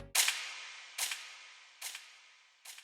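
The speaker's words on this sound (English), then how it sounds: "I have this gunshot right here" A sharp gunshot sample rings out, followed by three fading delay-effect repeats at even intervals, each quieter than the last, with no voices.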